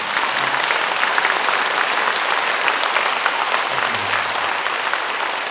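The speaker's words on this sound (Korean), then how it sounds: "박수 한번 주시기 바랍니다." Congregation at a Saturday Buddhist temple service applauding, a loud, sustained, even roar of many hands clapping throughout, close and continuous with no break.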